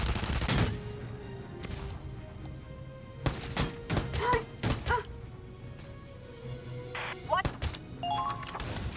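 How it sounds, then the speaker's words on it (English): Suppressive gunfire in Valkyria Chronicles 4 comes as sharp bursts of shots, a single crack early and then rapid clusters of reports, over a game soundtrack with low background hum. "We need suppressive fire now."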